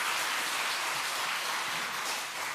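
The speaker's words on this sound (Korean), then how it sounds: "축하 박수 한 번 더" Congratulatory applause from a Sunday afternoon church congregation, a dense steady wash of many hands clapping that stays even and loud throughout, with no voices on top.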